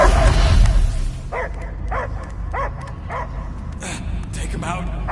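A dog barking in the Guardians of the Galaxy video game, a series of short spaced barks and yips over a steady low game ambience, with talk at the very start.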